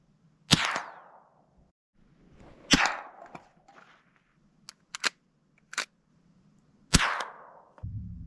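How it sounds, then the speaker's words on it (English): Three sharp cracks from a Winchester pump-action .22 rifle fired at cans in desert country, each shot followed by a short echoing tail, with fainter clicks and knocks from the pump action between them. "take out my Winchester pump action 22 and see if I can hit a couple of the cans out"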